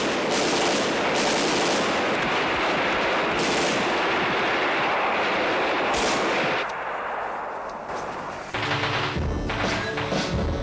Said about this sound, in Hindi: सर, अब ये फायरिंग और तेज कर देंगे।